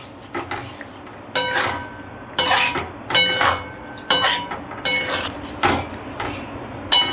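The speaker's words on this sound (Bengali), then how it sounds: "মশলাটাকে ভালো করে আমি ঘুটে দিচ্ছি, যাতে সমস্ত ডালের মধ্যে ওলের মধ্যে মিশে যায়।" A spoon stirs a spiced elephant foot yam and lentil curry in a pot, making a series of rhythmic metallic scrapes and clinks in short bursts, close and with no talking.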